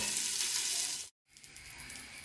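Chicken pieces frying in margarine give a dense, close, continuous sizzle, broken by a short moment of silence before the hiss resumes slightly softer.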